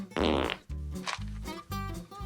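A cartoon fart sound effect from the Family Guy pilot plays loudly and close: a long, rasping blast, then three more low, buzzy bursts in quick succession.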